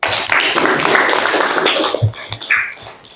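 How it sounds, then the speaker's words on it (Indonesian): Classroom audience clapping for students, a loud burst of hand claps that thins into scattered individual taps and fades out, close and uneven. "tepuk tangan dulu untuk kalian"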